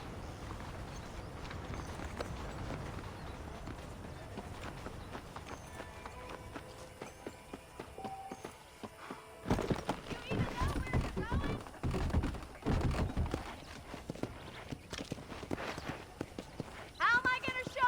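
Horse hooves clip-clop at a steady trot in the Red Dead Redemption game on a ranch, a rhythmic clatter running under continuous music and game sound, growing louder and denser in the later half.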